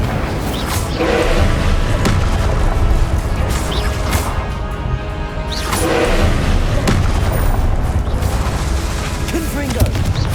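Confringo and Incendio spell blasts in Hogwarts Legacy combat burst out as loud, repeated booming impacts over a dense, continuous roar of fighting.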